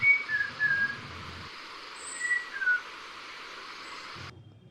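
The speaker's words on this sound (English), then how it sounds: "The Malabar whistling thrush whistles like a happy child." A Malabar whistling thrush gives clear, rising and sliding whistled phrases in two short bursts over a steady hiss of background noise, with faint low rumbles at the start and end.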